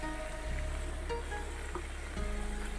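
Vegetables frying in a pan, a steady close sizzle with a faint low hum and occasional light clinks, no voices.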